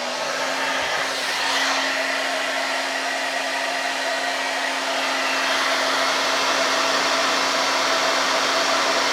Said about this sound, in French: on va brancher le sèche-cheveux.